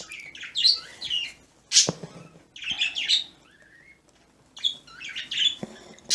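Small birds chirp in quick bright bursts, several clusters of tweets with short pauses between, fairly close and clear against a quiet background.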